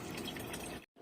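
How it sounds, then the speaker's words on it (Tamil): Water runs steadily into a container from a tap in a home in Saudi Arabia, a continuous close splashing rush that cuts off abruptly near the end before resuming briefly. "தண்ணி இப்போ பிடிச்சிட்டு அதுக்கப்புறம் வந்து ரூமுக்கு போகலாம்."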